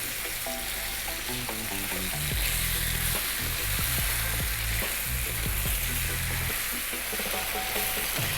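Carrots and potatoes sizzle and crackle in a hot pot for Jamaican curried chicken, with occasional stirring clatter and bursts of louder frying, no talking.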